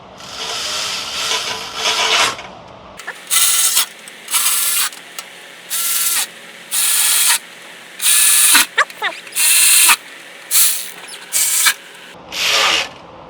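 Impact wrench on transmission bolts of a 6.7 Ford 6R140 transmission, firing in about ten short hammering bursts with brief pauses between, loud and close in a shop.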